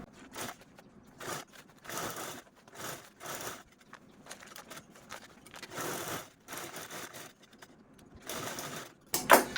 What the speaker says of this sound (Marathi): चला मी आपण पार स्टिच करून घेते